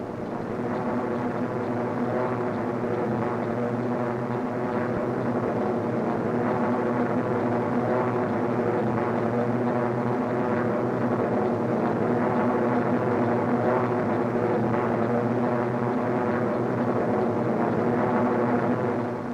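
Airplane climbing through clouds toward 10,000 feet: a steady, loud, unbroken propeller engine drone heard from inside, with a constant tone and no pauses throughout.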